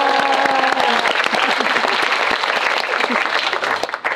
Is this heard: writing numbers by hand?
no